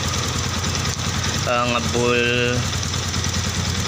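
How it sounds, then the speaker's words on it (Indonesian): A Yamaha Jupiter MX New 135 motorcycle idles roughly with a steady, close low rumble, while someone speaks briefly partway through. "Dan suara mesinnya udah agak mulai kasar dia"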